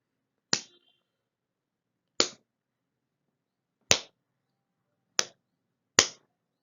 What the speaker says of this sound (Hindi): अब आप अपने दोनों हाथों से 5 ताली बजाएं।